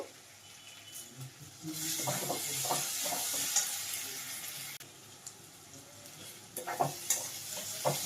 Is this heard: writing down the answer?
no